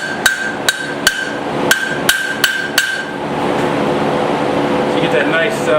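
A hammer rings sharply on metal about seven times at a steady pace while a tiny hammer is forged on a block, then the strikes stop and a steady whooshing hum carries on alone.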